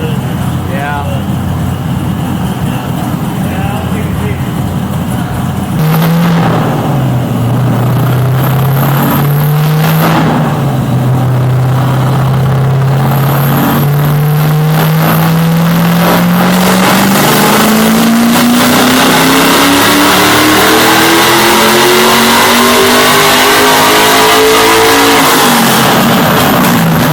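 A Mazda Miata engine on a dyno revs loudly, its pitch sweeping up and down and then climbing through a long sustained pull in an enclosed shop.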